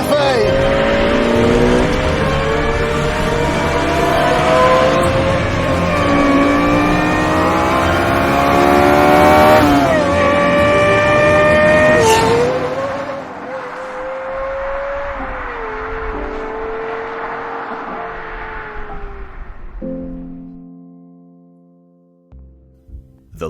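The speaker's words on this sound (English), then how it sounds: "this, I'm so excited to say it, is the Lexus LFA." Lexus LFA supercar engine revs hard and climbs through gears with rising harmonic wail, loud and close, then eases off and fades as it drives away near the end.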